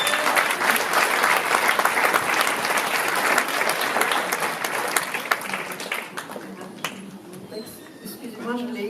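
Sustained audience applause fills a church hall during a jubilee gathering, a dense steady wash of many hands clapping that thins toward the end as a voice begins to speak.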